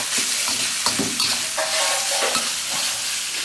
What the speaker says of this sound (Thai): เดี๋ยวผัดให้สุกก่อนแล้วเราก็จะปรุงเครื่องเพิ่มเติม